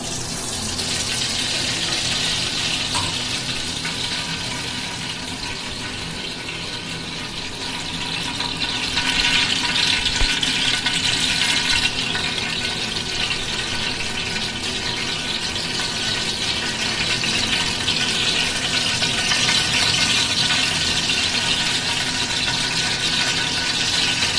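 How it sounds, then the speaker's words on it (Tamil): Cooking oil streams steadily into a large pot for a 3 kg batch of mutton biryani, a continuous liquid pouring rush that swells louder partway through and holds for over twenty seconds with no talk. "இப்போ வந்து நம்ம எண்ணெய் ஊற்றிக்கலாம்"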